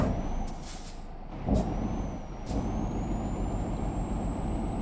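Truck air brake hissing in Euro Truck Simulator 2, with a sharp burst of released air midway through over a steady low engine rumble and a thin high whine, loud and close throughout.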